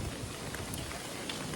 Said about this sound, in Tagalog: Lakas ng ulan ito ba?